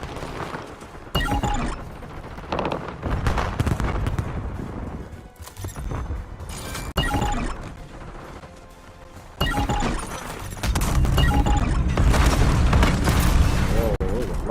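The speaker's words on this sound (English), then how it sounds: "A lot of grenades." Grenade explosions and gunfire crack and boom in bursts through Black Ops 7 gameplay, with several sharp blasts layered over busy game sound and a voice talking intermittently.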